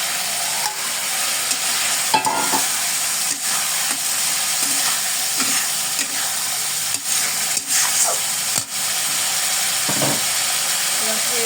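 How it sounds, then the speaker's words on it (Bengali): Prawns frying and sizzling in a pan of cooked-down masala, a steady close hiss with stirring scrapes and clinks throughout, faint voices now and then. "মশলা কষানো হয়ে গেছে, এবার চিংড়ি মাছগুলো দিয়ে দেবো।"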